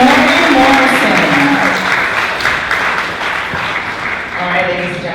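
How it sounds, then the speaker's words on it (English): An audience at a wheelchair pageant speech night claps in sustained applause, loud and close, slowly fading a little, while an announcer talks over it. "can you please join me in giving the accomplished group of women another huge round of applause"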